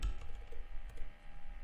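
Light, quick taps on a computer keyboard come as a short, faint burst of keystrokes.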